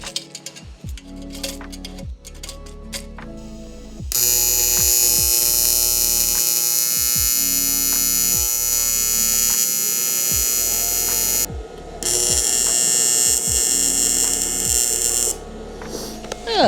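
Tack welding on a short aluminum intercooler pipe for a drag-racing Subaru WRX build, a steady loud electrical buzz running for several seconds, stopping briefly, then resuming, with clinks and light handling noise before it.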